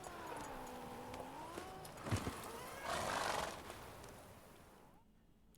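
A horse in The Witcher 3 neighs with a long wavering whinny, followed by snorting and a burst of rustling movement, moderately close, with no speech over it.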